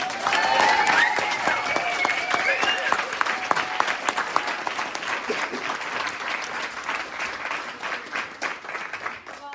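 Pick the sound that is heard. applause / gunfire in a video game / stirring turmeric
applause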